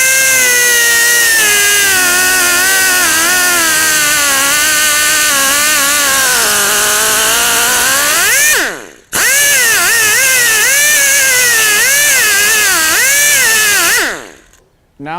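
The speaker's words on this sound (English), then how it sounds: "So here we're using a cut-off wheel." Cut-off wheel trimming a broken plastic AGA door lever, a loud, close, continuous high whine with wavering pitch that dips briefly near the end.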